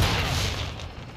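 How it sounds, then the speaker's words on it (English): A flash grenade bursts in Modern Warfare 2, a loud, broad blast that fills the clip and slowly decays over about a second, with no talk. "Throwing flash grenade!"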